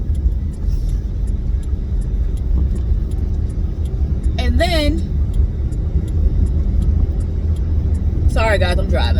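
A car being driven, a steady low road rumble and engine hum running throughout, with a person talking over it.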